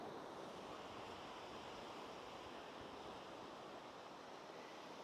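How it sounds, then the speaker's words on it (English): Ocean waves on Chesterman Beach in Tofino, British Columbia, a continuous broad roar of surf, steady and fairly close, with some wind against the microphone and no talk. "hopefully I've got this set up so you can hear the waves"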